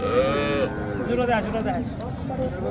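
A calf moos at a busy cattle market at Hazratpur haat near Dhaka, a drawn-out harmonic call up close over a steady crowd murmur.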